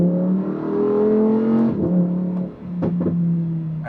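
Lamborghini Huracan EVO, four-wheel drive with a V10 engine, driven at Goodwood Festival of Speed, revs loudly and smoothly, rising and falling through gear changes with a brief dip before climbing again.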